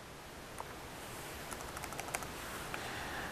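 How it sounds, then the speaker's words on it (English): A username is typed on a computer keyboard, a quiet run of light key clicks in an uneven rhythm over a soft background hiss. "Now let's go ahead and type in the correct username."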